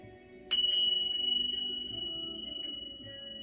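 A sudden click followed by a steady, faint high pure tone that holds for a few seconds over a low background hum.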